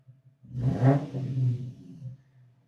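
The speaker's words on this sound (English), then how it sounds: "then give it a few revs now." A car engine idles low after a throttle body cleaning, then revs up sharply, holds a rising whine for a moment, and drops back toward idle.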